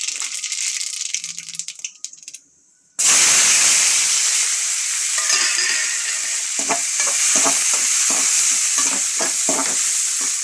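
Onion, tomato and green chili sauté in a pan for a spinach and moong dal masala. A quiet moment gives way to a loud, steady sizzle with repeated scraping stir strokes close by.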